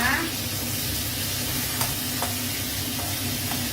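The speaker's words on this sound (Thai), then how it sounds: "ตับหมูลงไปผัด ไปแรงๆนะคะ" Pork liver stir-fried in sauce over high heat, with a loud, steady sizzle and hiss throughout and occasional faint scrapes of stirring.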